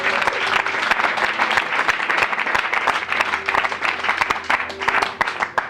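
A church congregation bursts into sustained, loud applause and cheering for the Lord, dense clapping filling the room from start to finish with voices mixed in.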